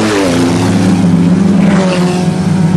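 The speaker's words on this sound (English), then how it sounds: "It's a minivan and a truck with the modified exhaust." A loud, deep truck engine with a modified exhaust drones and revs with a rough, throaty exhaust rumble, close and continuous, at a field race.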